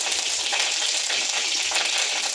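Curry leaves crackle and sizzle in hot oil, a dense, steady, bright frying hiss with small pops running throughout, close and loud, with no voices.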